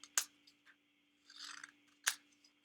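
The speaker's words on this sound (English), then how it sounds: "put all of those pages on top of each other, and then we're going to cut little cards" Scissors cutting through a stack of paper pages into small cards, two sharp snips with a softer rasping cut between them, close and clear with no talk.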